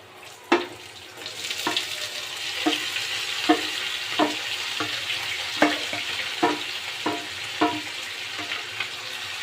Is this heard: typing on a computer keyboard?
no